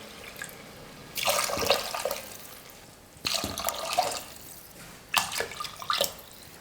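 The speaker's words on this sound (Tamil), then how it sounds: "2 டம்ளர் அரிசிக்கு 4 டம்ளர் தண்ணி சேர்த்துக்கிறேன்." Water pours in three separate bursts of a couple of seconds each, splashing into a cooking pot of rice at close range, with quiet pauses between pours.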